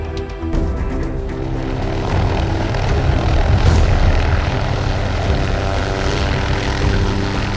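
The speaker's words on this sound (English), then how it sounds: "The helicopter's herding the elephant." A helicopter herds wild elephants during a capture for road relocation, its rotor and engine making a loud, steady droning roar that holds without a break, with no voices.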